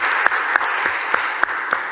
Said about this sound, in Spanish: Así que un aplauso y un agradecimiento a enfermeras y enfermeros hoy en su día.